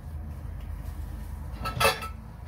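Quiet handling of a Soviet canteen plate, with a soft scrape and a brief bright clink of dishware near the end.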